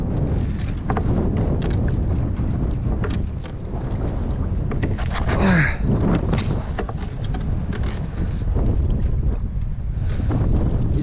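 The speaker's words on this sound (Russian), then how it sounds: "Вот видите, да, сколько проблем создает ветер." Strong wind buffets the microphone continuously during setline fishing for burbot on high water, a loud roaring rush with gusty bursts, mixed with faint splashing water sounds.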